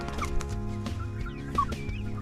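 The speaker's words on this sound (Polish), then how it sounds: "Tutaj kolejny biały kogucik kochinek." A white Cochin bantam rooster clucks nearby in short, uneven calls over a constant low background hum, with no talk.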